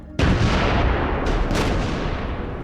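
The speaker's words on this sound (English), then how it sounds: "Right, I see artillery going in now." Heavy artillery fire in the World War II video game 20th Century Battlefields 1942 Stalingrad: a sudden loud blast followed by a sustained roaring barrage with a second sharp impact, with no talk over it.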